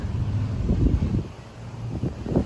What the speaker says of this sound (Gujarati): પવન બહુ હતા હાલ